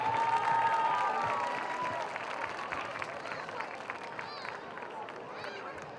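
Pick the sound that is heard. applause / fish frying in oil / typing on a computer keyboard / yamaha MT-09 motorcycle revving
applause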